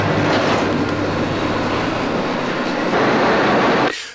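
A subway train in a 1974 film rumbles and clatters loudly and steadily for about four seconds, then cuts off abruptly.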